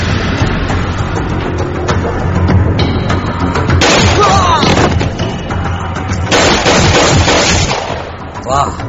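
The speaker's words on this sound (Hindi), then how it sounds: "वाह, ये बंदूक तो बहुत शक्तिशाली है।" A powerful gun fires loud, dense bursts of gunshots in repeated blasts across the whole stretch, mixed with other noisy action sounds and voices.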